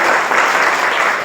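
A church congregation claps loudly and steadily in one dense, continuous burst of applause that fills the whole short moment.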